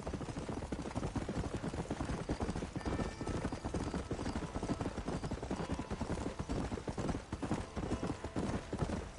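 Horse hooves clip-clopping in a steady, brisk rhythm on a dirt trail in the Red Dead Redemption video game, loud and close, with a dense background mix and no talking.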